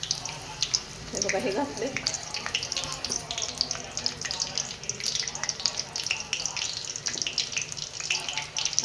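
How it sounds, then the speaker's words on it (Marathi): Curry leaves dropped into hot oil for a dhaba-style whole masoor dal sizzle and crackle steadily up close, a continuous bright frying hiss running under a woman's speech. "तेल चांगलं गरम झालंय, त्याच्यात आपण हा आता कढीपत्ता घालूया"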